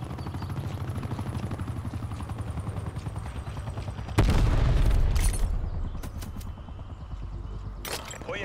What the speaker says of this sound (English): Enemy attack helicopter above